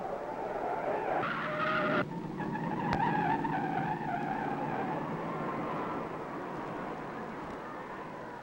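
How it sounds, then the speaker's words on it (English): A 1954 Indy 500 race car spins out on the final lap at around 139 mph, with a broad, sustained roar of engine and skidding tires. A brief sharp crack comes partway through, and the noise eases slightly toward the end. "Into the last lap, he's heading for home at 139 miles an hour. He's losing it."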